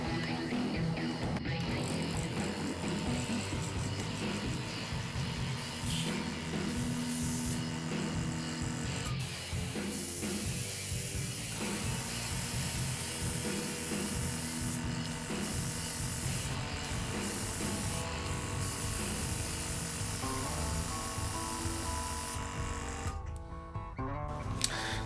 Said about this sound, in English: I'll turn that off before it goes crazy again, because as I say, my compressor's a load of rubbish